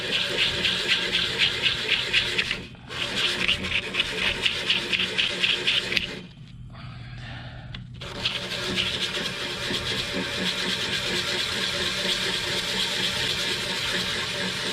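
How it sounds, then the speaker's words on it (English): Continuous scratchy sanding on a small part of a Morris Models two-stroke model engine, steady and close, with a brief pause and a quieter stretch midway before the rasping resumes. "I'm going to turn that over, and I'm going to sand that piece."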